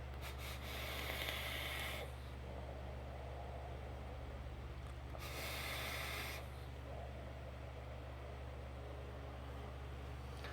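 Vapor hisses and crackles from a Buddha mini RDA fired at 150 watts, two bright bursts of roughly two seconds each separated by a pause, close and loud over a steady low electrical hum.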